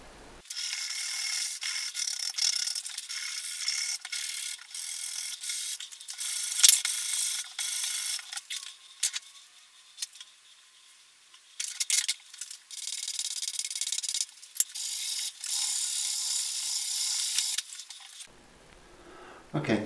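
Hand files and rasps shaping a wooden Thinline Telecaster guitar body, heard as close, rhythmic bursts of gritty scraping strokes with brief pauses between passes.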